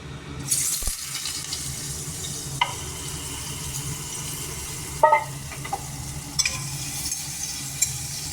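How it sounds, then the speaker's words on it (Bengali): Finely chopped potatoes frying in a pan, a soft steady sizzle with occasional spoon clinks and scrapes against the pan, no voices. "আমি প্রথমে আলু কুচি কুচি করে নিয়েছি, আলুটাকে আমি ভেজে নিচ্ছি"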